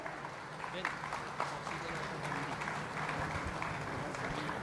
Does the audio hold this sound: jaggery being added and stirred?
no